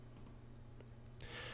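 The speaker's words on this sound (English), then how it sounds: "let's open up Microsoft Excel by clicking the icon in the dock" A mouse click opens Microsoft Excel from the dock, a faint, sharp click against quiet room hum, with a few other soft clicks nearby.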